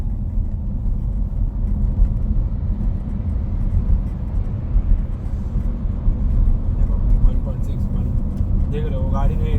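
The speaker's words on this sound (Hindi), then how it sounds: "देख रहे हो, गाड़ी ने टेक ओवर की," A car with a 1-litre engine overtakes on the road, heard from inside a 1.6-litre car under a loud, steady rumble of engine and road noise with no distinct pass-by peak.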